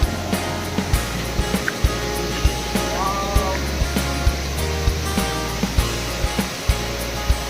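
Zero Point Waterfall pours steadily nearby, a loud continuous rushing roar with faint scattered clicks and background sounds, no talking.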